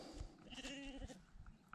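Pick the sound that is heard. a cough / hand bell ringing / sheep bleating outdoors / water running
sheep bleating outdoors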